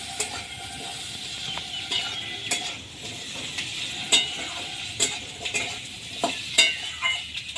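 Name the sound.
stirring potatoes frying in pan for mango snakehead fish curry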